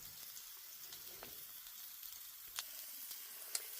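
Breakfast food sizzling in a pan in a small kitchen, a constant soft hiss with a few faint pops and clicks, no voices.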